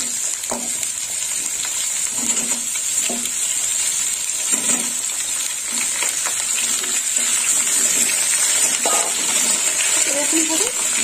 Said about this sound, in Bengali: কুমড়োটাও একটু আলুর সাথে ভেজে নেবো